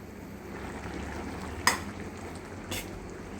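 An okra and green chilli curry with tamarind water cooks in a pan, giving a steady low sizzling bubble, with a sharp utensil clink partway through and a softer knock near the end.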